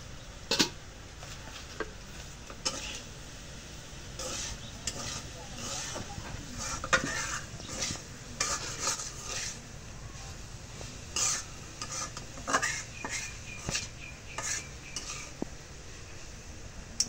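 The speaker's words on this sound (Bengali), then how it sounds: "এখন বাজিটা একটু নাড়া দিয়ে দিই।" Bhaji, fried vegetables, stirred in a pan at a Bengali village wedding kitchen, giving repeated scraping and clattering strokes over a steady frying hiss, with faint voices in the background.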